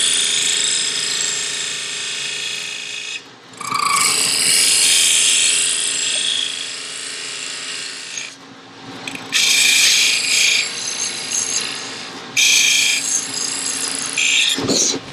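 A gouge cuts into a spinning wooden lidded box on a lathe, making loud, close, hissing shearing bursts in several long passes separated by brief quieter pauses, with no speech.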